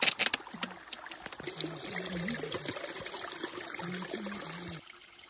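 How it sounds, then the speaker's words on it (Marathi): Water trickling and pouring from a small mountain spring into bottles on a trek, a steady close stream with gurgling shifts as each bottle fills, starting with a few knocks and stopping near the end. "वाटेत एक छोटीशी पाण्याची झाड लागली. त्याच पाणी भरायचे आता."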